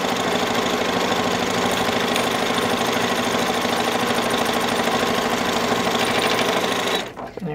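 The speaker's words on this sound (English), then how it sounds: "Do our top stitching." A sewing machine top stitching a sling bag runs in a loud, continuous, fast mechanical chatter at close range, then stops abruptly near the end.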